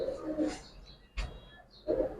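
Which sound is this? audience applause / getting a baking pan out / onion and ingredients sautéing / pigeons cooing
pigeons cooing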